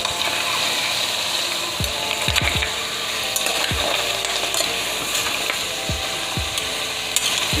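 Hard cow foot bones clatter and knock in a pot over steady sizzling as they brown, with irregular sharp clunks scattered throughout, close and fairly loud.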